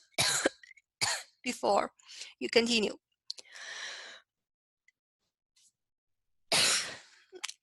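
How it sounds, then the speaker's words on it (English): A person speaks briefly, then gives a single short cough, followed by quiet and another brief vocal sound. "I'm sorry for the cough."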